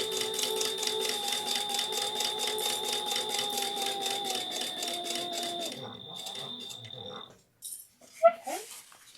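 A sewing machine stitches a zipper onto a yarn project bag, a steady fast rhythmic whir and needle clatter that slows and stops, followed by brief handling noises.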